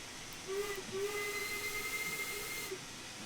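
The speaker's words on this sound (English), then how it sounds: "Sound the whistle there to let everyone know that we are presently on the move." Steam-style train whistle in the railway simulator game Train Sim World 2, a steady, loud tonal blast with a hissing steam edge that holds for about two seconds and then stops, with no talk over it.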